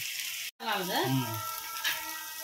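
Pasta masala ingredients sizzle in a pan for street-food style veg pasta, a steady close frying hiss under a voice that talks throughout.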